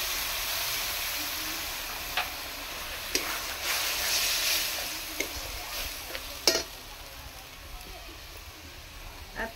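Ground tomato goes into hot oil with fried onion, ginger and garlic and sizzles with a steady, moderate hiss, broken by a few sharp stirring clicks and pops.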